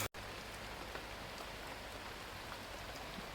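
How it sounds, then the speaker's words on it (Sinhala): Rain falls outdoors on a mountain where a hut is being built, a soft, steady hiss of drops on surfaces heard alone and fairly faint, unbroken after a brief cut at the start. "එහෙට හොඳටම වහිනවා."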